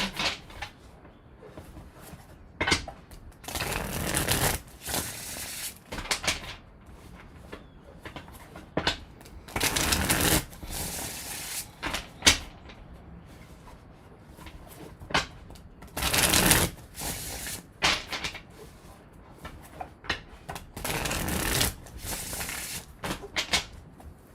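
A deck of playing cards is shuffled repeatedly in a quiet room, the soft riffling and rustling bursts coming close and in irregular waves with short pauses between them.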